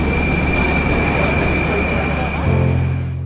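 A metro train in a Russian underground station rumbles loudly with a sustained high whine, then brakes with a squeal and a lower tonal hum as it slows, with faint voices underneath.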